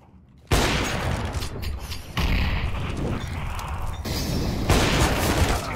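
Loud, dense gunfire from a video game, with a sharp blast at the start and further heavy bursts of shots, close and continuous throughout.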